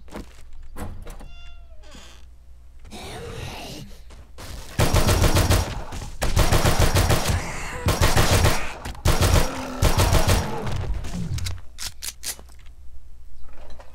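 A 9mm gun fires in the zombie survival game 7 Days to Die with the Darkness Falls mod. Dense, loud bursts of rapid shots run for several seconds after a quieter start with scattered clicks and creature cries.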